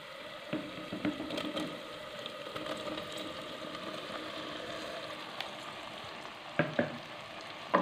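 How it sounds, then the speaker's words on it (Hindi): Fried potatoes and cauliflower for aloo gobi being stirred into sizzling masala with a spoon: a soft, steady frying hiss with occasional scrapes and clinks of the spoon against the pan. "चम्मच जो है आपने आराम आराम से हिलाना है क्योंकि ये फ्राई हैं तो टूटे नहीं।"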